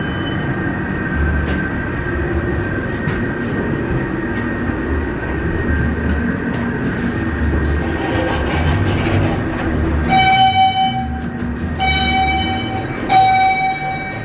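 A Valley Metro light rail train runs steadily past, a continuous rumbling roll lasting the whole stretch, with a high repeating tone near the end, heard close from outside a Fry's Food and Drug store.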